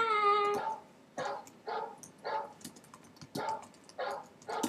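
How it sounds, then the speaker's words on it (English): A timer alarm with a barking-dog sound starts with a brief tone, then fires off a regular string of about eight short, yappy barks, evenly spaced and fairly quiet. "that's just my little timer. I love the barking."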